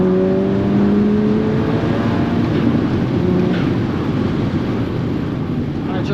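Volkswagen Golf Mk5 GTI engine pulling in third gear around 3,500 rpm, a steady loud drone with rising tones as it accelerates, close and continuous throughout with some wind rush.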